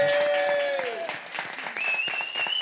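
Audience applause fills a television studio, dense steady clapping with a tonal note and voices ringing over it.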